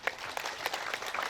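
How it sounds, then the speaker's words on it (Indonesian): Audience applause at a regional government Independence Day reception, a dense patter of many hands clapping steadily throughout, moderately loud and fairly close. "Tolong tepuk tangan"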